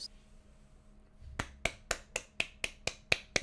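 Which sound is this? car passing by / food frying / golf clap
golf clap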